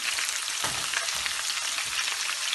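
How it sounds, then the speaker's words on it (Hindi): Bitter gourd frying in oil over full heat, giving a loud, steady, close sizzle throughout with faint stirring knocks and no talk. "इनको पहले फ्राई करेंगे, फिर निकाल लेंगे"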